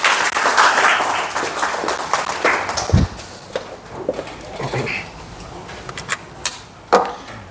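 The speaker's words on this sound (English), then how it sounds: "So another round of applause to all of you." A seminar audience gives a round of applause, clapping strongly at first and then thinning into scattered individual claps, with some shuffling.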